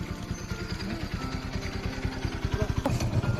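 A motorcycle engine running close by on a rural road near a new bridge, a steady low throbbing rumble with rapid pulsing firing beats throughout, slight revving toward the end.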